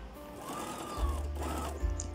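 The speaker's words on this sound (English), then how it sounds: "this is me hemming my shirt dress" A sewing machine hems a shirt dress, its motor whirring in two short, close running bursts with a brief pause between.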